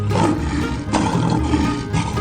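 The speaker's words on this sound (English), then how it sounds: "Lion." A lion roars in a 3D animal video game, a loud sustained growl that swells twice over a dense rumbling low end, with game sounds around it.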